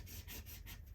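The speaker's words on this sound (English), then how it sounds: "just rub that on there" Rub-on transfer being rubbed onto a surface by hand, giving a steady, close, soft scraping friction with gentle rhythmic swells, no talking.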